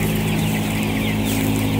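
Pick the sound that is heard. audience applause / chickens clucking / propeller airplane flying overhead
chickens clucking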